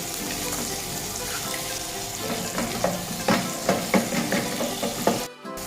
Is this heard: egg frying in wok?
yes